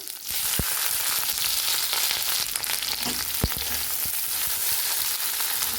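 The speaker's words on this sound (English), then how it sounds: "Once the oil is smoking hot, add in diced capsicum" Diced capsicum frying in smoking-hot mustard oil, a dense, bright crackle and sizzle at close range, dotted with occasional sharp pops and stirring clicks.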